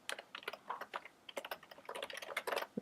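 Quiet, uneven clicking of fingers typing on a computer keyboard, short bursts of keystrokes with small pauses, close and alone.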